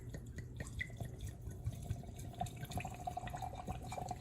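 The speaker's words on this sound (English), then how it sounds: "we're just gonna slowly pour this in here to cover our herbs" Brandy slowly poured over herbs for an elderberry calendula elixir, a faint, soft trickle with small drips and liquid splashes, quiet and close.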